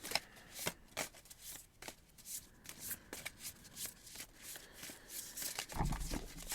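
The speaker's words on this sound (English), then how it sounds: "So let's give a shuffle and see how the universe wants to contribute to today's conversation." A deck of oracle cards is shuffled close by, with a steady run of soft riffling and slapping card sounds continuing throughout, quiet and without talk.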